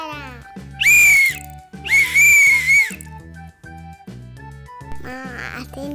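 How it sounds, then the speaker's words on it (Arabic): A toy whistle is blown in long shrill warbling bursts, twice loudly and once more faintly at the end, over a repeating melodic background tune. "واو صفارة."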